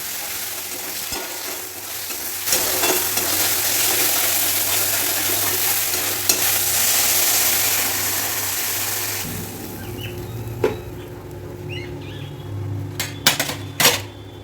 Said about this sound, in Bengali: আলুটা দিয়ে ভালো করে মশলা দিয়ে কষিয়ে